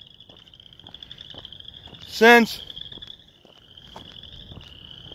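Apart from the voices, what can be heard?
frogs croaking by a river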